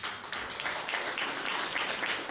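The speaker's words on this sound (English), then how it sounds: "A round of applause for Matthew Scharf" An audience at a lightning-talk event applauds for a speaker, a steady, even patter of many hands clapping, moderately distant and without voices over it.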